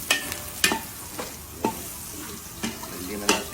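Garlic fried rice (sinangag) stir-fried in a pan, with a steady sizzle broken by about six sharp scraping strokes of the spatula at an uneven rhythm. The sound is close, and nobody speaks.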